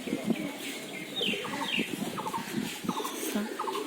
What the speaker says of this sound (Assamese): এয়া চাওকচোন পাৱাৰ চৰাইবিলাক ইমান ধুনীয়াকৈ আছো